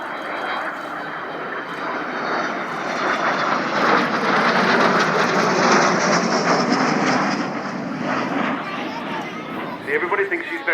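Avro Vulcan XH558 bomber making a display flyby at RAF Cosford, its jet engines producing a loud, broad roar that builds, peaks and fades slightly, with crowd noise and voices underneath.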